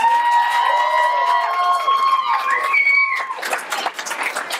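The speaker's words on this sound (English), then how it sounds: "Give them a round of applause." Comedy show audience at a 2014 finale clapping and cheering loudly and continuously, with whistles and excited shouts rising over the crowd noise; a performer's voice carries over the start before the applause fades into scattered claps.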